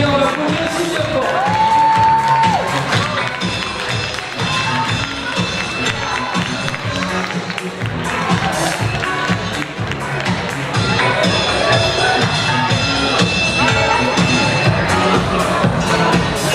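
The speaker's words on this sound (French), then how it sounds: "on l'applaudit aussi bien fort" Crowd at a village festival queen election in 2019 applauding and cheering for a pageant candidate as she parades, sustained clapping and whoops filling the room under music.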